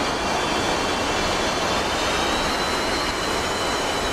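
F-117 Nighthawk and F-35 Lightning jets taxiing in a video game give a loud, steady broadband roar with a faint high whine, constant throughout and free of speech.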